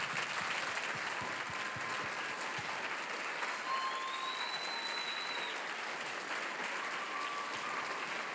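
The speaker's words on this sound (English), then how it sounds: "Let's give you a round of applause" Sustained audience applause for military veterans at a battle of the bands concert, a dense, even patter of many hands clapping that continues steadily throughout.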